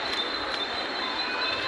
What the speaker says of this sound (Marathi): AC ट्रेन नंतर आता आपली स्लो ट्रेन आली साधी.